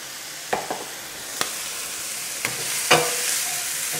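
Onion, capsicum, garlic and Spanish onion cook in a frying pan for an omelette, giving a steady close sizzle punctuated by a few sharp taps and scrapes of a utensil against the pan.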